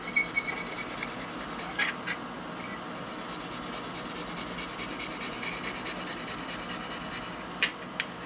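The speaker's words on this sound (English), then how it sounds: "Very little pressure, kind of just letting the sandpaper do the work here." Sandpaper rubs lightly and steadily over the hood of a Kato GP35 model locomotive, a close, soft, continuous scratchy hiss with no talking.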